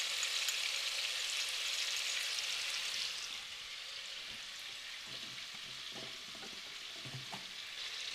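Ginger garlic paste frying in oil for an Indian restaurant-style tomato puree, a bright steady hiss that eases after a few seconds, followed by soft scraping stirs close by.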